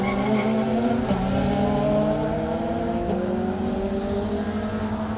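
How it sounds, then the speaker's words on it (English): A Citroen Saxo kit car on a rally stage revs hard with rising, falling engine harmonics as it shifts through gears, tires briefly scrabbling, loud and near with no voices. "Next up for us, the Citroen Saxo. It's the kit car."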